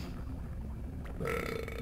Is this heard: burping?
yes